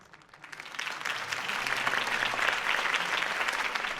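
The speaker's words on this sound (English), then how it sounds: "could have heard that applause" Applause from a campaign rally crowd in the Batman Telltale video game swells quickly after a speech and holds as steady, dense clapping throughout, fairly loud with a hint of crowd noise beneath.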